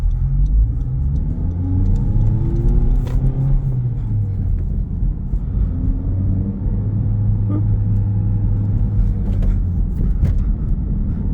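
A 2021 Honda Civic Type R Touring driving on the road, with a steady, close engine rumble and road noise throughout and smooth rises and falls in engine pitch as it accelerates and shifts gears.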